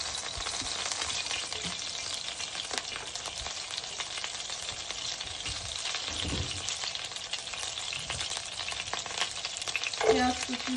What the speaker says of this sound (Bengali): লাউ আলুটা কষাবো।